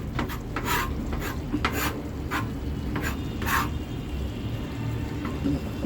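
Chopped tomatoes go into frying onions in a pan while black chole is cooked, several scraping stirs and utensil knocks at close range over a continuous low sizzle.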